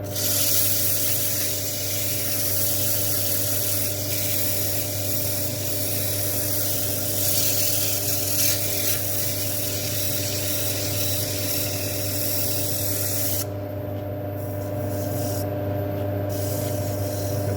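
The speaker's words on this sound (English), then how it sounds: "I'm probably going to make you watch the sanding again." Continuous abrasive rubbing over a steady motor hum as a spinning camphor laurel bowl is sanded on a wood lathe at 120 grit, unchanging for a long stretch, no talking.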